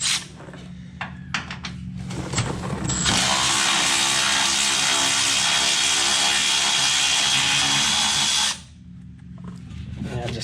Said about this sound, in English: My other new toy, 3/8 drive ratchet from Milwaukee.